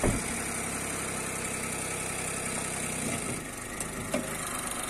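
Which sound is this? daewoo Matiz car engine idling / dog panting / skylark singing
daewoo Matiz car engine idling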